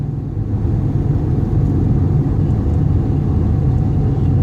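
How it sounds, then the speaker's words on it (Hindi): A car engine rumbles steadily and loudly while pulling out to merge into a main road lane, a close, continuous low drone with no voices. "अब आपके करने का काम यही है कि आप एक्सेलरेट करो, दबाओ गाड़ी को और निकाल लो"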